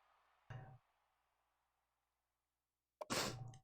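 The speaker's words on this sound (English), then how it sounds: "Had to sneeze real quick." Two sneezes from one person, close and loud: a short burst, then after a long quiet gap a second, bigger and more forceful sneeze, with no talking.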